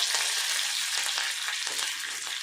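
Mustard seeds, a cut green chili and a sprig of curry leaves sizzle in hot oil for a Kerala tapioca and coconut dish, a dense, close, steady crackle with small pops and no voices.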